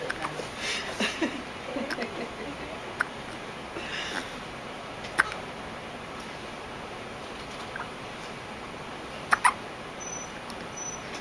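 Hiccups from more than one person pop out as brief sharp bursts, scattered and sometimes paired, against quiet room noise, with a few soft murmurs early on.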